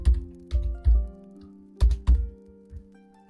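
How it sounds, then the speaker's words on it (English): Computer keyboard struck while writing C++ code, heavy thumping keystrokes in uneven clusters, close and fairly loud, with a steady low electrical hum running underneath. "I'm just typing it here."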